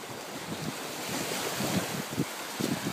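Sea waves wash onto a beach in a steady, broad surf rush with gusts of wind noise against the microphone and repeated soft surges, without any talk.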